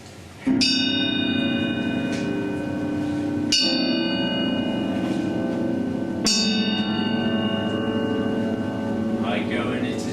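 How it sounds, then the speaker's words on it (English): A deep bell tolls three times at slow, even intervals, each strike ringing out and lingering before the next. "the bell invites me. Hear it not, Duncan, for it is a knell"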